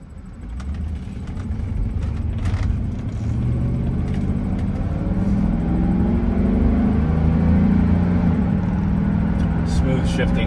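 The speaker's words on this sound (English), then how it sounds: "I'll show you how the car accelerates" A 1988 Mercedes-Benz 560SL accelerates along a straightaway, its engine drone building steadily in a low rumble heard from inside the cabin, with someone talking over it.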